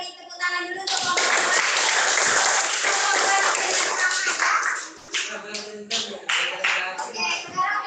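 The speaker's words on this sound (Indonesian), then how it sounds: "Sekarang kita beri tepuk tangan dulu untuk kelompok" A student group in a classroom gets applause: dense clapping from the class swells after the first second and holds for about four seconds, then breaks into scattered claps mixed with voices.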